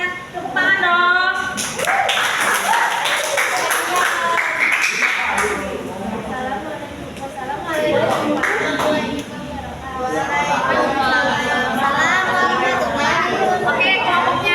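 Classroom students in a grade 7 class clap for a group that has just presented, the applause mixed with steady chatter and a teacher's voice throughout.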